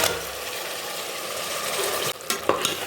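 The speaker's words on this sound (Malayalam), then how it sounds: "നന്നായി ഇളക്കാം." Chicken stirred with coriander powder in a pressure cooker pot, a steady soft sizzle and scraping stir running throughout, with a few sharper spoon scrapes near the end.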